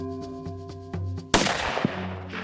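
A single sharp rifle shot cracks out during a predator hunt, following a faint repeating tonal call, with a short echoing tail fading behind it; no one speaks.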